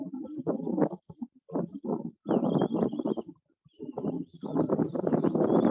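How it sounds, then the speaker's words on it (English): Young anhinga chicks give raspy, squabbling calls while being fed, in repeated bursts, loud and close, with brief pauses between the noisy outbursts. "Daddy Anhinga is feeding those babies up there."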